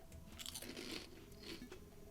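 Thin, light Hawaiian shrimp-flavoured snack chips crunched close up, a few crisp bites followed by soft chewing, quiet and without speech.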